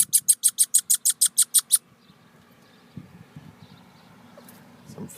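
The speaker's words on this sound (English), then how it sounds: "He wanted to see what a young red squirrel sounded like." A young red squirrel, also called a pine squirrel, gives a rapid series of about eleven high, sharp chirping calls in quick rhythm, then falls silent, leaving faint low rustling and scattered thumps.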